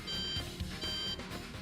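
An integrity detector in the video game Heaven Burns Red emits two high, steady electronic beeps in a row, loud against a busy background hum.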